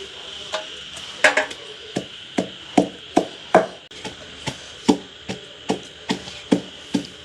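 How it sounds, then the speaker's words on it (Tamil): Onions pounded in a mortar during village cooking, about fifteen sharp, close, evenly paced thuds with a woody knock, each hit ringing briefly before the next. "அடுத்ததாக நாங்கள் வெங்காயத்தை போட்டு அடிச்சுக்கொள்வோம்."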